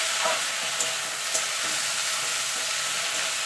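Drumstick flowers frying in a pan with salt and turmeric, a steady close sizzle with faint scrapes of stirring and no voices.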